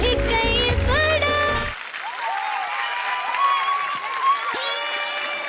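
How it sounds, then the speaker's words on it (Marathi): An audience breaks into applause after a stage performance on a televised Marathi women's show, loud clapping continuing steadily under bright musical tones after the song ends. "जोरदार टाळ्या होऊन जाऊ दे"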